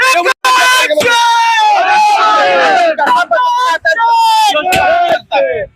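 A crowd in Mangaon, Mahad, Raigad, celebrates a guardian minister announcement with loud, close shouting and cheering, voices overlapping in bursts with brief pauses between.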